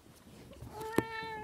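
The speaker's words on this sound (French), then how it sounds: "Pardon, c'est mon chat qui est passé." A pet cat passing by gives a single short, clear meow close by, rising and then trailing off, against a quiet indoor background.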